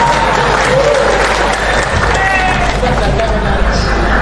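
A crowd at a religious gathering claps loudly and steadily, a dense, close roar of hands mixed with murmuring voices and some shouting throughout, with no pause.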